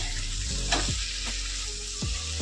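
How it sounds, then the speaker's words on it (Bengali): Spices and chopped tomato sautéing in a pan for a mixed vegetable dish of potato, green banana, pointed gourd and taro, giving a steady close sizzle with a few stirring scrapes and no talk. "এবার আমি কষিয়ে নেব সব মশলাগুলো দিয়ে কষিয়ে নিতে হবে"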